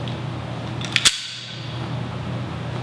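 A Sig Sauer P320 pistol fires near the one-second mark, a short sharp report with a small crack just before it, then a quiet background with no talk.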